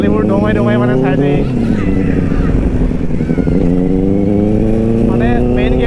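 Benelli 600i motorcycle on the move, its loud engine hum continuous and close with slight pitch shifts, while someone speaks over the noise.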